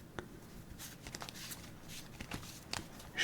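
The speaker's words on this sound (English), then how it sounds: "Shuffling cards feels really good." A deck of Bicycle playing cards is shuffled by hand in a quiet room, giving soft, close riffling and snapping bursts, several brief papery flurries in a row, fairly faint with no voices.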